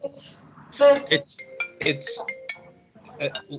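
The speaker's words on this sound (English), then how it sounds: "Somebody's phone." A mobile phone ringtone goes off during an academic seminar on the Cuban economy, a short electronic tone cutting in among people talking in the room.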